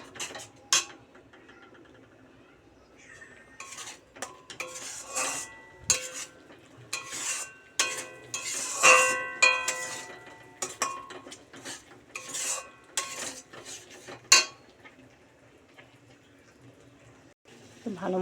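A spice paste is stirred and sautéed in a pan, a spoon repeatedly scraping and clinking against the metal with a low sizzle underneath, the strokes coming in irregular bursts at close range.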